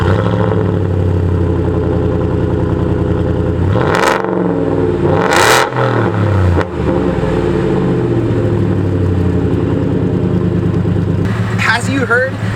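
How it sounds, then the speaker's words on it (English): A 2017 Roush Nitemare pickup truck with a 3-inch side exit exhaust rumbles loudly and deeply, rising in sharp revs around the middle and again near the end. "that's the 3-inch Roush Nitemare side exit exhaust"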